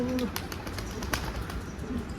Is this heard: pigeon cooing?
yes